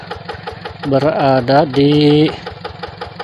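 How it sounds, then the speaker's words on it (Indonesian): Yanmar tractor engine running on a rice field dike, a steady mid-pitched mechanical drone heard throughout with clattering ticks, while someone talks loudly over it in the middle. "Akhirnya mesinnya sudah nyampe di atas pematang kawan."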